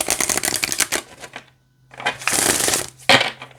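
A deck of Buddha Dhamma oracle cards is riffled close up in two rapid crackling bursts, separated by a short silent pause, with a quick flick at the end.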